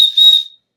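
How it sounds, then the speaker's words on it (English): A small plastic whistle hanging from the carabiner clip of a water flask gives one short, shrill, close blast that cuts off within about half a second. "The clip here has a whistle on it."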